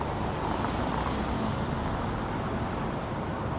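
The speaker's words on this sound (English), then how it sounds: "as this car attempts to run me over" A car on a roadway, heard as a continuous close rumble of road and tire noise with a wind-like wash throughout, no voices.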